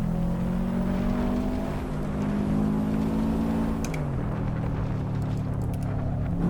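Subaru WRX racing up Pikes Peak in Assetto Corsa, a loud, continuous engine drone holding steady pitch, then dropping briefly around a corner before pulling again, with no talk over it.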